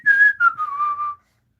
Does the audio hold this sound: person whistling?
yes